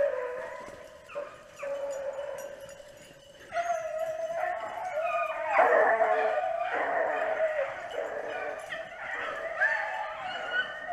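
A pack of beagles baying while hunting, several dogs howling and yipping together in overlapping, ringing voices at moderate distance, steady and continuous with rising intensity midway, no talking.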